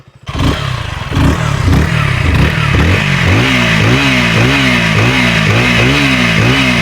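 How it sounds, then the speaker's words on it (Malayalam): A KTM Duke 160 motorcycle with an underbelly exhaust starts and revs repeatedly in a rising and falling rhythm, loud and close, its exhaust note pulsing steadily. "ആ അണ്ടർബെല്ലി എക്സോസ്റ്റ് ഞാൻ കേൾപ്പിച്ചത് കേട്ടോ"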